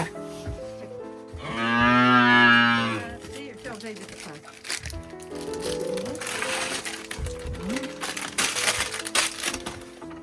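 A cow gives a long, loud moo, followed by wet crunching and munching sounds as it eats, with a person speaking briefly in the background.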